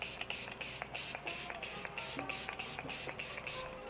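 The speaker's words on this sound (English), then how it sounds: "I'm gonna spray my face." Facial mist spray pumped onto the face, a series of short, close hissing bursts repeated in quick rhythm, each spritz distinct and fairly soft against a quiet room.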